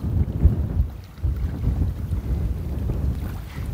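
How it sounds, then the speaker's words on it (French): Strong wind buffets the microphone with a constant low rumble and gusty surges, with no voices present. "Mais il y a beaucoup de vent."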